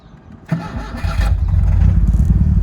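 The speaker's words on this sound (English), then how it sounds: "Let's just turn the key, let's see what happens." A car engine starting as the key is turned, with a brief starter whir and then a catch into a loud, close, steady idle rumble that builds and holds, no talking.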